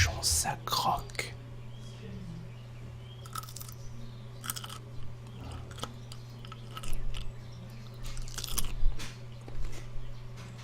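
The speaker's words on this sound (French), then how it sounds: "Le cornichon, ça croque." Someone chews a cornichon pickle, with crisp crunching bites and moist chewing heard up close under soft whispered speech.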